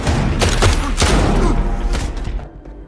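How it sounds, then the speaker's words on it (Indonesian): A gunfire shootout in an action film, with rapid bursts of shots and booming impacts packed densely together over a few seconds before fading out. "tembak-tembakan."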